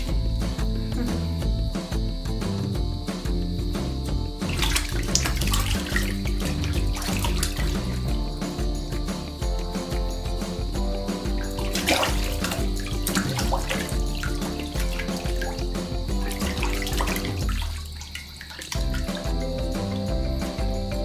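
Water runs steadily from a sink faucet while a five-month-old baby splashes in it, continuous close trickling with irregular splashes and drips, no one speaking.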